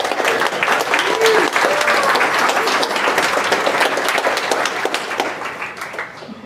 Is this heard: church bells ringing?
no